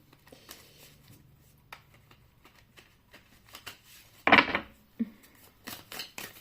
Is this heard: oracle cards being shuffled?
yes